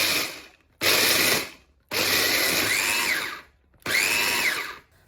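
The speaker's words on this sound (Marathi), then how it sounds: "गार झालेले काजू बदाम आता आपण ग्राइंडरमध्ये टाकून ते बारीक करून घेणार आहोत" Electric grinder pulverizing cooled cashews and almonds into a coarse mix for sugar-free modak, loud whirring motor in three separate bursts with short pauses between.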